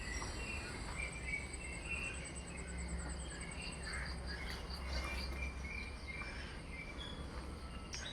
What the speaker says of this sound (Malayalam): ഇവിടെയാണ് ഏറ്റവും കൂടുതൽ കിളികളുടെ സൗണ്ട് കേൾക്കാൻ പറ്റുക